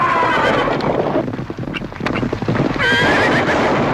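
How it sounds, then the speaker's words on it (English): Horses neigh loudly and close, with shrill whinnies at the start and again near the end over a rough rumble of stampeding hooves and wind, and no talking. "She's stampeding our horses."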